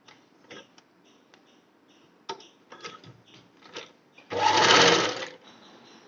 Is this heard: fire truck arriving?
no